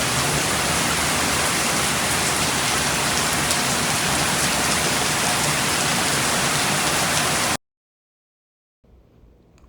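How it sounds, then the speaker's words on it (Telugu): Heavy rain pours off house roofs in a dense, loud, unbroken roar, then cuts off abruptly into silence before a faint hiss returns near the end. "ఇంటి కప్పుల మీద నుండి వాటర్ ఎంత సౌండ్ తోటి కింద పడుతుందోనండి"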